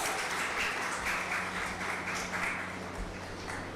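Sustained applause from a conference audience fills the hall, dense overlapping clapping at steady loudness that fades slightly toward the end, with no voices.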